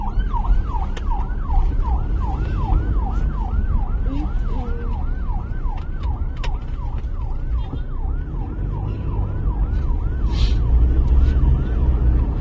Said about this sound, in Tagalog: hinabol yung ambulansya